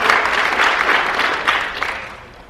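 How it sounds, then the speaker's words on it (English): An audience at a security conference keynote gives a loud round of applause. Dense clapping fills the room and fades away over about two and a half seconds. "Big round of applause for Thad for helping out up here"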